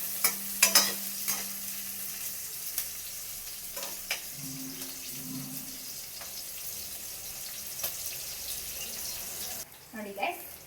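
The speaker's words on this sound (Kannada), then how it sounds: "ಎಣ್ಣೆಗೆ ಚೆನ್ನಾಗಿ ಫ್ರೈ ಮಾಡೋಣ." Oil sizzles steadily in a pan while mushroom biryani is started, with sharp utensil clicks and stirring scrapes, a brief voice, and a tap-like water sound near the end.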